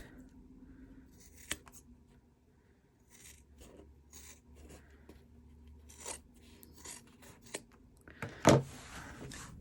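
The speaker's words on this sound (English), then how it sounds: "So I'm clipping the corners, getting rid of my bulk." Scissors snip and trim the corners of sewn fabric pieces, with soft rasping cuts and small taps spread across the clip and a sharper, louder snip near the end, no talking.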